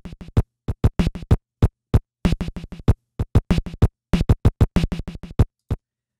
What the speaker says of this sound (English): Let's just do the kick and snare.